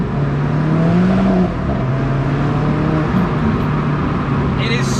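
Loud, steady engine drone heard from inside the cabin of an Alfa Romeo 4C sports car, a low rumbling hum that swells briefly then holds, with no voices.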